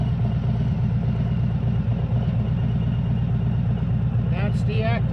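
A Harley-Davidson motorcycle engine idles with a steady, low, pulsing rumble that holds close and even throughout, with a brief higher squeak near the end.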